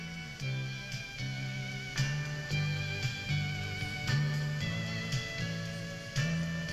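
An LED light signal converted to sound by a photocell gives a steady, dense electronic drone with layered sustained tones and a low note that pulses roughly once a second, moderately quiet and continuous.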